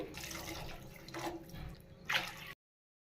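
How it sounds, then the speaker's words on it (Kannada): Water is poured into a pan of fried semolina and cooked vegetables for kharabath, a close, steady splashing pour with a brief louder gush near the end before the sound cuts off abruptly. "ನಾನಿಲ್ಲಿ ಒಂದು ಕಪ್ ರವೆಗೆ ನಾಲ್ಕು ಕಪ್ ನೀರು ಸೇರಿಸ್ತಾ ಇದ್ದೀನಿ"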